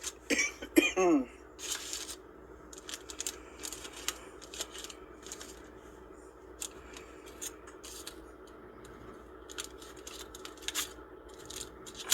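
A kitchen knife or scissors cuts through an item for an old recipe, one crisp snipping burst near the start, then soft scattered clicks, rustles and handling sounds at close range, quiet overall.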